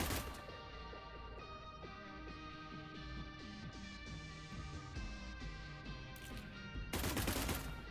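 Firefights erupt in the tactical game Cyber Knights: Flashpoint as enemies and allies trade rapid machine-gun fire. Quiet, densely repeated shots rattle over a steady music bed, with a louder burst near the end.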